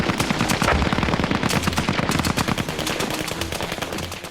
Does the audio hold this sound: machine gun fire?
yes